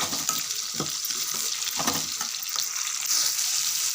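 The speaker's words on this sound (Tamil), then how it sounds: "இது தக்காளியும் கொஞ்சம் நல்லா வதங்கட்டும்" Tomatoes, onion and garlic sauté in a pan for a fish curry, a close, steady sizzle broken by several soft clinks and scrapes of a spoon stirring.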